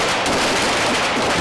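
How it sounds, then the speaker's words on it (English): An M9 Beretta pistol fired on a Navy boot camp range, heard as a dense wall of overlapping shots that stays loud for the whole stretch, with no clear gaps between reports. "Recruits trained to safely fire the M9 Beretta pistol"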